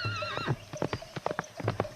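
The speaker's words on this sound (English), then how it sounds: "the farmer's son left the stable door open, and the horse ran away." A runaway horse gallops off with rhythmic clip-clopping hooves and a high whinnying neigh at the start, close and clear with no talk.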